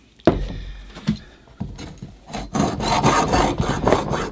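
A saw blade rasps through cement in a few separate strokes at first, then settles into steadier back-and-forth scraping, close and clear with no talk.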